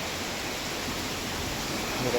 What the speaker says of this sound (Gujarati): જોરદાર વરસાદ આવી ગયો છે